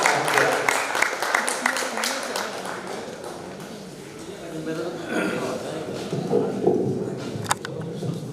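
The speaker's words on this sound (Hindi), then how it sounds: "लेकिन पहले आप बजाएंगे तालियां उनके सम्मान" Clapping from the audience at a kavi sammelan poetry gathering in Ujjain, honouring the poet Dr. Mohan Bairagi, a dense burst of many hands at the start that thins as a voice takes over.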